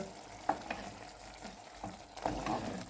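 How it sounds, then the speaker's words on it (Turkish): Mushrooms bubble in a pot after simmering for half an hour with a spoonful of tomato paste added, for a chicken and kashar cheese mushroom stew, giving a soft, continuous low bubbling with occasional stirring clicks. "Mantarlarımız yarım saattir kaynıyor"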